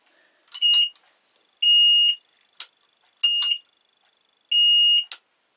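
A vehicle turn signal indicator beeper sounds in short paired chirps, a sustained high tone followed by a quick blip, repeating about every second and a half in near silence, while the signal lights themselves do not work.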